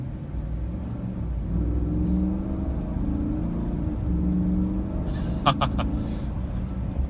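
A steady low engine drone and exhaust rumble heard from inside the cabin of a 2017 GMC Sierra 4WD pickup, with a few faint clicks near the end.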